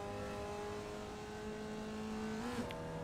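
A Formula Vee race car in iRacing at Summit Point holds a steady, buzzing engine drone at full throttle. Near the end the pitch dips with a quick gear change, and no one talks over it.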